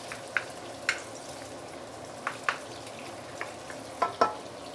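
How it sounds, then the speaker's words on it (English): Prawns sauté in a hot pan for seafood fried rice, giving a soft steady sizzle up close. A spatula taps and scrapes the pan now and then in short, sharp clinks. "Let's saute the prawn for about a minute or 2 before I put in the sotong"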